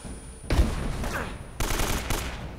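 Video game gunfire in Uncharted: Drake's Fortune, two sustained bursts of rapid automatic shooting, loud and close, with a short lull between them and no voices.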